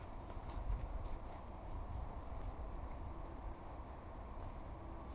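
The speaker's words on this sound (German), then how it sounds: "Sie sehen hier ein sehr wildes Pferd, was über 6 Wochen lang in der Box gestanden hat" Hooves clip-clop slowly and irregularly over a low rumbling background, a wild horse walking nearby after six weeks confined to a stall.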